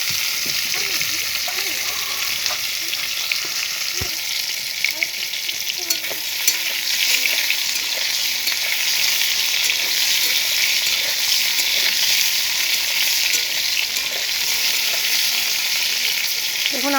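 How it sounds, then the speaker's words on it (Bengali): Pointed gourd (potol) fries in hot oil in a pan, a continuous close sizzling hiss broken by occasional scrapes and taps of a stirring spoon. "দেখুন আমার কিন্তু পটল ভাজাটা হয়ে গেছে"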